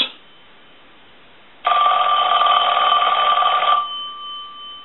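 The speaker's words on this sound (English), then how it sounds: "we'll go ahead and ring the telephone" A Western Electric Princess Touch Tone telephone's bell rings in one sustained electronic burst lasting about two seconds after a quiet stretch, then fades into a softer lingering tone.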